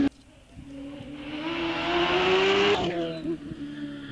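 A 1-litre OMS 28 hillclimb race car launches off the start line at Wiscombe Park, its high-revving engine rising sharply in pitch through one gear before a quick shift, loud and close, then fading as the car pulls away.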